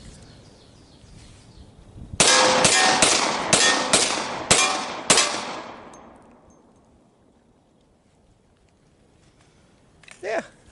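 Rapid fire from a 10mm Glock pistol: six loud, sharp shots in quick succession with ringing echoes that fade out afterward, followed by a brief faint sound near the end.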